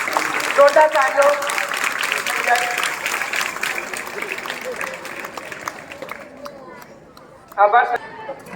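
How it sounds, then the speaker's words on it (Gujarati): Loud applause from an audience at a school retirement farewell ceremony, steady dense clapping with crowd murmur for several seconds, fading, then a brief fresh burst near the end. "જોરદાર તાળીઓ"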